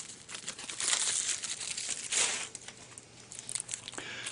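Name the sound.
unwrapping packaging of a TV remote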